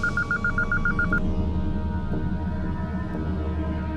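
A telephone rings with a rapid warbling electronic trill, a single short burst of repeated pulses at the start, then stops, leaving a steady low hum underneath.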